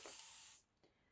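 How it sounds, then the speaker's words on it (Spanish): A short burst of water sprayed from a spray bottle onto a base, one loud, close hiss lasting about half a second, then a brief faint puff after a pause. "simplemente estoy echando un poquito de agua"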